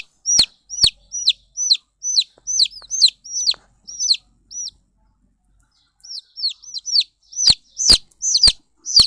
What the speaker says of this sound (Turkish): Bunlardan mı geliyor cik cik sesleri?